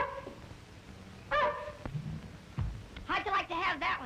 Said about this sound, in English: You better get that pup out of here, Sonny.